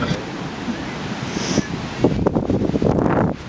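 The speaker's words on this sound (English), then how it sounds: "It's cold, it's windy, it's a little unpleasant." Cold wind gusting on the Oregon coast near Haystack Rock, a steady roar of wind buffeting the microphone with surf behind it, building stronger and more turbulent toward the end.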